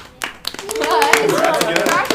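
Short burst of applause during an online USC Viterbi engineering admissions live chat, brisk clapping with voices rising over it for about two seconds.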